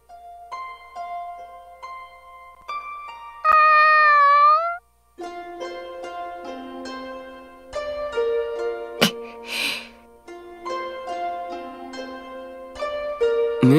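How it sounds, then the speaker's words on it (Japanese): A cat meows in the Sword Art Online Alicization Lycoris video game, one drawn-out, fairly loud meow near the start, set among soft chiming game music tones. "メディナ、もしかしてこの猫を助けてやりたいのか"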